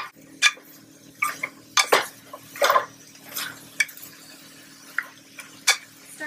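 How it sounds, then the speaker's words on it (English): Scattered clinks and scrapes of a utensil against a pan, irregular and close, as vegetables are stir-fried, tossed and stirred. "We're just going to stir fry these around until they get to your desired softness."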